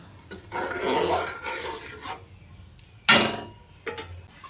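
Rice and water being stirred in a pot while making pulao, a spoon scraping and swishing in a few long strokes, then a sharp clink against the pot, close and alone.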